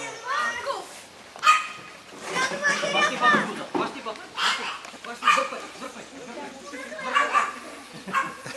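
A dog barks and whimpers in short bursts while children pull it outdoors, the yips mixed in with excited children's shouting and talk throughout.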